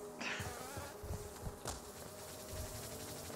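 Bee enemies in Hollow Knight buzz in a steady, close insect drone with a few sharper bursts, heard alone with nobody talking.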